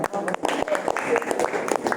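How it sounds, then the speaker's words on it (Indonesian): Audience applause in a classroom guidance session, a short burst of scattered, close handclaps lasting about two seconds with a murmur of voices mixed in. "Tepuk tangan."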